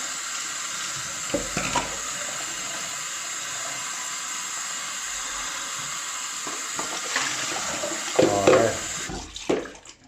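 Running water pours steadily while containers for Kodak Flexicolor C41 chemistry are rinsed, a continuous close splashing stream with occasional clinks and sloshes before it stops near the end.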